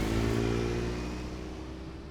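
A car engine idles steadily close by, a low continuous rumble with a constant hum that fades slightly over a couple of seconds, with no talk.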